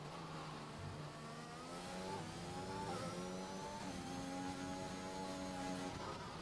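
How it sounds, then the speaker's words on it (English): A McLaren Formula 1 car in a PC F1 racing game at the Azerbaijan Grand Prix, its engine holding a high whine that climbs repeatedly through gear shifts, steady and moderately loud with no talk. "now we wait for the last McLaren to cross the start-finish straight"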